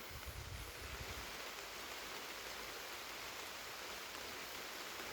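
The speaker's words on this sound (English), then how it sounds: "Oh man, it's really raining now." Steady, dense hiss of heavy rain pouring down, loud and continuous with no voices, a brief low rumble at the start.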